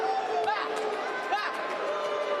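Boxing crowd at a Dennis Thompson vs Sean Diaz fight, a steady roar of murmuring and shouting with scattered cheers and whoops, loud and continuous throughout.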